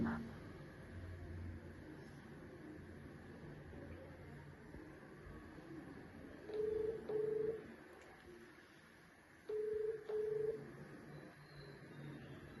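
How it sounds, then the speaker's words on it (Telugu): Two pairs of short electronic telephone dialing tones, each pair a quick double beep, sounding over a faint background hiss with no talking. "లైవ్లో డైరెక్ట్గా ఫోన్ చేస్తాం"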